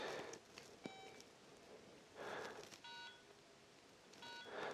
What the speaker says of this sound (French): Ah, cette sonnerie Motorola, on l'a tous connue.